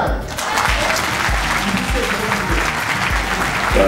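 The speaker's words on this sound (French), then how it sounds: "On va accueillir, je vous demande de l'applaudir, Cédric Biscay." An audience at a convention applauds a guest with loud, dense, continuous clapping, while music with a steady beat plays beneath it.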